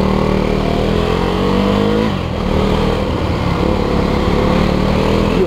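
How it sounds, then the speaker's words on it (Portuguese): A KTM 390 Duke single-cylinder motorcycle engine runs loud and close, its rough thumping note holding steady then dropping briefly before rising again in a sustained rev. "E o motor acende, né? Monocilíndrico é legal pra caraca."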